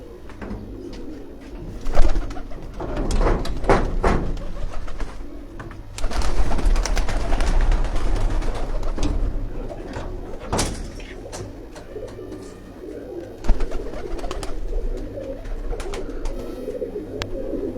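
Breeder pigeons coo at a rooftop loft, repeated low throaty coos close by, some clattering and knocking sounds, and faint talk in the background.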